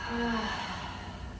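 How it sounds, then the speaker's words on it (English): A single open-mouthed exhale during a prenatal and postnatal pelvic floor yoga breathing exercise: one soft, breathy release of air, close and quiet, with no talking. "Take a breath in. Open mouth, exhale."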